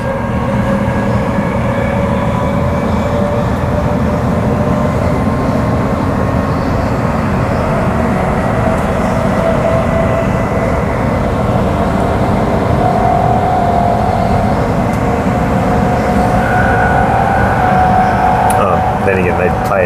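A train on Perth's Mandurah line rumbles past with a constant low mechanical drone and faint tonal whine, steady and close for the whole stretch.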